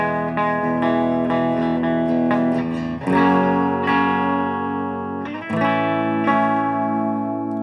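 Clean electric guitar chords through a Blackstar HT 40 combo amp with reverb off ring out dry and bright, strummed in a few sustained passages with short breaks between them.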